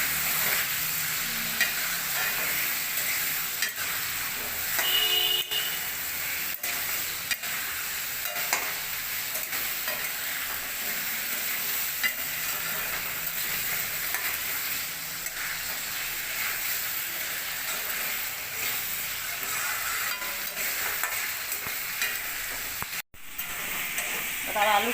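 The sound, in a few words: potatoes frying and being stirred in a pan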